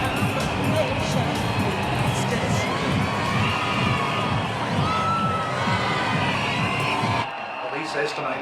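A huge crowd at the gay and lesbian Mardi Gras cheers, whoops and shouts in a dense, continuous roar, then drops off sharply near the end.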